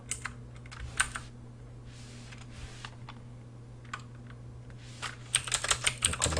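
Computer keyboard keys tapped in short, sparse bursts, then a quicker flurry of typing near the end, close and fairly quiet, with no talking.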